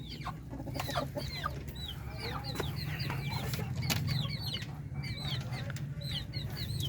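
Native Filipino chickens in their cages cluck and call repeatedly, many birds at once, with steady close chatter over a low hum from the coop.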